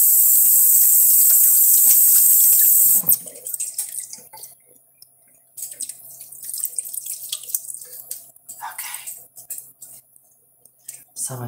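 Cold water runs from a tap during doll hair rerooting: a loud hiss of flow for about three seconds, then stops, leaving drips, clicks and handling noises.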